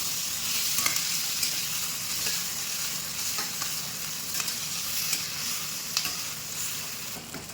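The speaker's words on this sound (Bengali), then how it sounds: "টমেটো একদম ভাজা হয়ে গেছে" Tomatoes and mixed vegetables frying in oil in a pan, giving a steady, close crackling sizzle with occasional stirring scrapes throughout, no voices.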